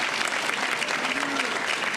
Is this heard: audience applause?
yes